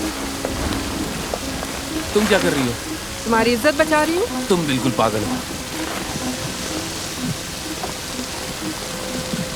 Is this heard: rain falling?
yes